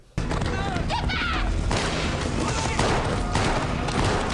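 Burst of rapid gunfire in a post-apocalyptic drama series, a dense volley of shots running continuously and loudly with crashes, under and alongside talk.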